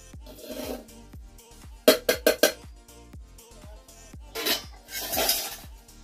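Collected cream for homemade ghee is beaten in a bowl, heard as a close run of sharp utensil knocks and clinks against the bowl. A fast burst of strokes sits mid-clip and softer scraping rubs follow.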